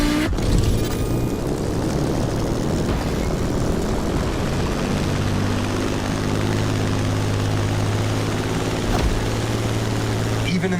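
A propeller airplane flies in the driving game The Crew Motorfest, a steady droning engine hum with a strong low tone, holding throughout under a dense wash of noise.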